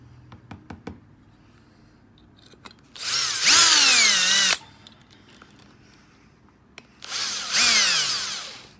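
Power drill boring into the lock of an antique vertical-rod wardrobe, two sustained whining bursts of about a second and a half each, loud and close. A few sharp knocks and taps come before the first burst.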